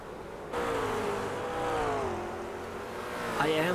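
Race car engines in the iRacing simulator whine at high revs, the pitch sliding down and climbing again through gear changes, with a sharp rising sweep near the end, at moderate level.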